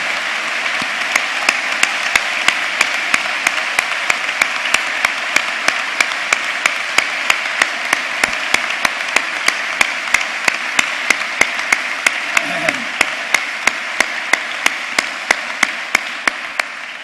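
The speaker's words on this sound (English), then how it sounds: "Let's give them a huge round of applause." Steady, sustained applause fills a graduation ceremony hall for absent degree candidates, a dense even wash of clapping held at constant loudness throughout with a few sharper individual claps standing out.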